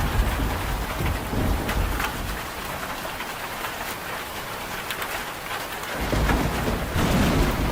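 Steady heavy rain with a continuous rumble of thunder in a thunderstorm from a tornado chasing video game, a dense unbroken wash of sound with the low roll swelling toward the end and no voices.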